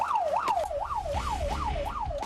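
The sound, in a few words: fire truck siren responding to a call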